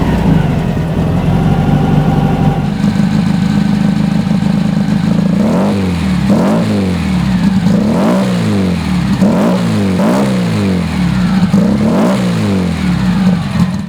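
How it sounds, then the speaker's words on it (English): A 1958 Volkswagen turbo dune buggy engine idles with a rough, loud rumble, then revs repeatedly in about six rhythmic bursts, each rising and falling sharply. "So let me fire it up for you so you can hear it."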